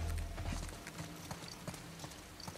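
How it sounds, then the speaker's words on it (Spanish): Rhythmic horse hoofbeats in the video game The Last of Us Part II clip-clop steadily at a walking pace, moderately close, over a low rumbling background with faint game-like ambience. "Ah, caballo."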